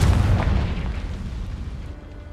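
A Confringo blast spell in Hogwarts Legacy goes off as a single heavy, close boom with a rumbling low tail that slowly fades away.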